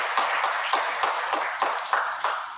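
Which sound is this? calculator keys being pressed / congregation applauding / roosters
congregation applauding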